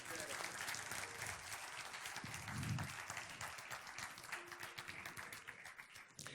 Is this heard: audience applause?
yes